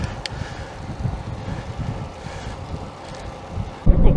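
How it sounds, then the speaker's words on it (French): Wind buffets the microphone in continuous low rumbling gusts outdoors, with a sharper louder blast at the very end. "Un petit peu vent, un petit peu de vent."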